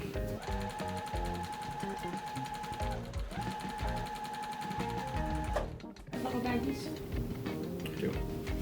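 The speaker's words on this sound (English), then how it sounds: "I'm simply going to sew the 2 halves together." A sewing machine stitches two quilt block halves together, its needle chattering in fast, even bursts up close, stopping briefly before running again.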